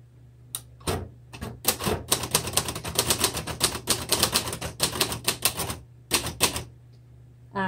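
Keys strike steadily on a 1962 Royal Heritage III manual typewriter, a fast run of sharp mechanical clacks with brief pauses and a quiet mechanical hum beneath, close and alone.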